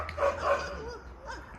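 A hunting dog at a northern wolf park gives a couple of short, close barks and yips, then a higher whining note, loud and alone.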